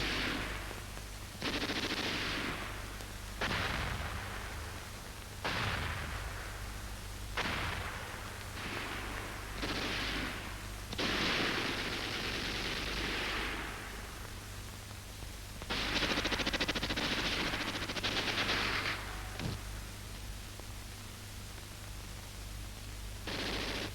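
Bursts of gunfire from a WWII-era German training film on digging in under fire, with repeated crackling volleys and rattling shots spread across the stretch over a steady hum and hiss of old film audio.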